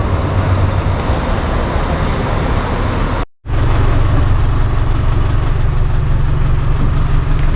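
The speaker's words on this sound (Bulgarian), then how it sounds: "Аз съм в автобуса и той е абсолютно празен" Steady road and engine rumble from inside a moving bus in Colombia, a continuous low drone with a brief dropout midway before the same dense rolling noise resumes.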